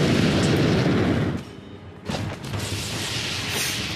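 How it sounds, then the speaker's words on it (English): Weapon fire slamming into the player's mech in the VR combat game World of Mechs, a dense, loud rumbling barrage that drops off briefly mid-clip and then resumes as a sustained roar of impacts. "Who could possibly be shooting me already?"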